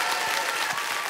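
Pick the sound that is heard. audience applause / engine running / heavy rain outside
audience applause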